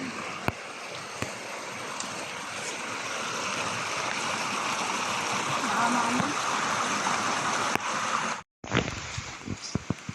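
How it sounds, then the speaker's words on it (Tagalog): Heavy flowing rainwater during a rainy-day outing, a strong, steady rushing roar close by that builds slightly, then cuts out briefly before returning with a few sharp knocks. "Lakas ng tubig."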